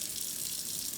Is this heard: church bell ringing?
no